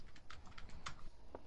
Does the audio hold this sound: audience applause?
no